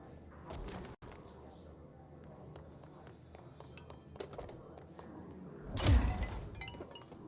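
Glass walls shattering in the video game Control, a single loud crash of breaking glass near the end, preceded by quieter clinks and low rumbles, with talk in the scene.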